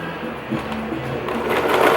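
Serger stitching along the edge of a burp cloth, a fast close mechanical whir that runs steadily and speeds up slightly toward the end.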